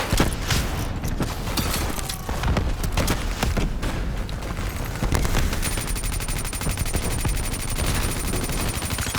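Dense, rapid automatic gunfire rattles almost without pause in the Call of Duty: Black Ops III video game, loud and close, with overlapping bursts and sharp impacts throughout.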